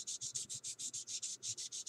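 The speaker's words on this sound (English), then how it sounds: "Then you go into it with your 600 grit." Light hand sanding with 600 grit sandpaper during body prep, a quick, even back-and-forth rasping of about a dozen strokes, soft and close with no talking.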